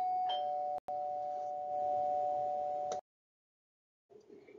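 A doorbell rings with a clear sustained electronic tone, one short chime then a longer ring lasting a few seconds, heard alone before stopping abruptly.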